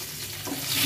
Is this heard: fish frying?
yes